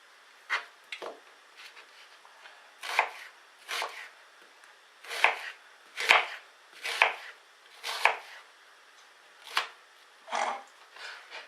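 An onion being chopped with a knife on a board: a dozen or so sharp, uneven knife strikes, some in quick pairs, fairly close and clear with quiet between them.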